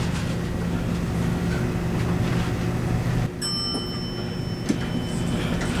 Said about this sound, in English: We're gonna ride. This elevator here has not been modernized.